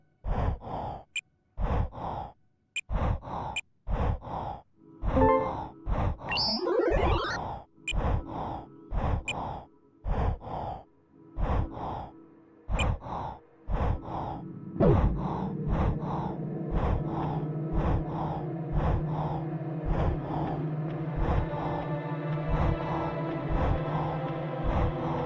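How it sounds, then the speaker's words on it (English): Injured character panting in the Saturn video game Baroque: a long series of sharp, rhythmic breaths and gasps, close and distinct, later joined by a sustained droning hum underneath. "Gnarling sound, that's actually your character panting because of the injuries."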